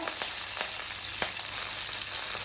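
Curry leaves and dried red chili crackle in hot tempering oil for coconut rice, a close, steady sizzle punctuated by several sharp pops, with no voices.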